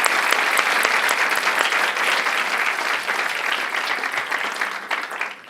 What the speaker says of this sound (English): join me in a round of applause for all of our students receiving it today